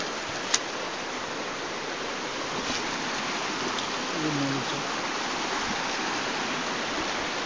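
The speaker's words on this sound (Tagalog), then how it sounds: "Andyan tayo sa sapa tol." Steady broadband rush of a flowing mountain stream near a steep trail, continuous and fairly loud, with a brief faint voice partway through.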